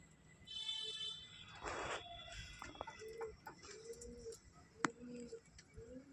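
Lakka fantail pigeons give soft, repeated low coos in short rounded phrases, with other faint bird calls and a sharp click or two nearby.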